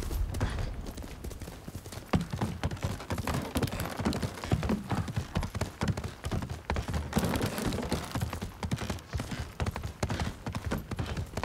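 Rapid clip-clop of horse hooves at a steady trot, close and continuous, with faint game ambience and no speech.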